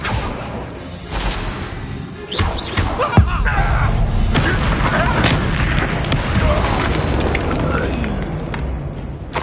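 A Confringo blasting spell in Hogwarts Legacy detonates with a booming explosion and crashing impacts, followed by a sustained loud rumble with whooshing game effects.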